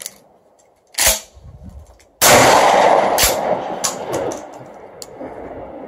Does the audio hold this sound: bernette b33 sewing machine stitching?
no